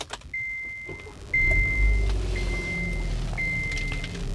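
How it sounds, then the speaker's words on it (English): Repeated high warning beeps chime over a low rumble as the 1.6 GDI engine of a 2015 Kia K3 turns over and settles into a steady idle. "Let's start the car."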